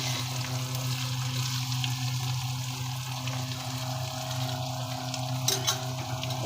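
Fish fries in a pan, giving a steady close sizzle with a bubbling hiss that runs throughout over a low hum, with a faint clink near the end.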